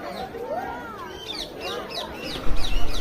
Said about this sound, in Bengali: অনেক জাতের টিয়া পাখি আছে। এগুলো সবার এক ধরনের আওয়াজ